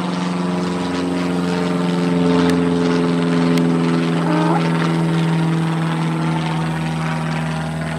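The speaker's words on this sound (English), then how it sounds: "And there's the airplane." An airplane drones overhead in a loud, steady propeller hum that holds evenly throughout, with no one talking.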